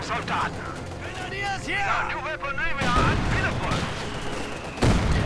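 Mortar fire and tank machine guns from a T-34 and Panther rake infantry in a Company of Heroes 2 1v1 battle: dense, loud overlapping gunfire bursts and booms, with a voice talking over the battle throughout.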